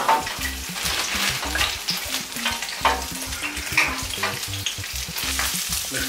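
Flemish fries stirred in a hot pan, a loud, steady sizzle with rhythmic scraping and shuffling strokes repeating throughout, close up and without any voices.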